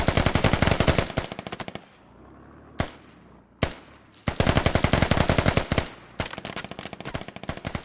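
Sustained bursts of SAW light machine gun fire in the tactical shooter Squad, loud and close, with rapid rhythmic volleys broken by a brief lull and isolated single shots before automatic fire resumes.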